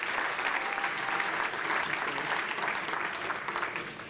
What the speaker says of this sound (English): Let's have a round of applause for Bill, please.